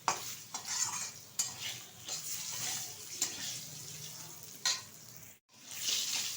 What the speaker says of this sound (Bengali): আলুটা এবার ভালোভাবে ভেজে নেব।